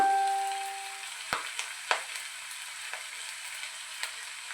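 Vegetable fried rice with soy sauce, vinegar and pepper is stirred in a pan, giving a steady soft sizzle with a few sharp spoon knocks spaced apart, close and fairly quiet, no voices.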